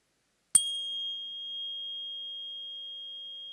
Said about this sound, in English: using 2 tuning forks of 528 hertz, it sounds like this